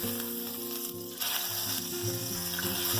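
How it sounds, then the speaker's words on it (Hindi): About four tablespoons of butter sizzle loudly and steadily in a pan, a close, even crackle that dips briefly near the middle and then resumes, with no talking. "तो ये मैंने डाल दिया है पैन में butter, which is 4 tablespoon he full"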